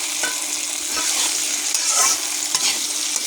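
Onion and potato frying together in a pan while being stirred, a constant close sizzle broken by a few scraping strokes of the spatula, with no talking.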